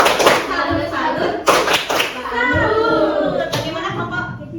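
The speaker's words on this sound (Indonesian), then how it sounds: "Tepuk salut untuk kelompok 2" Elementary school pupils in a classroom perform a rhythmic clap-and-chant cheer for a classmate group, sharp claps punctuating their sung chanting voices.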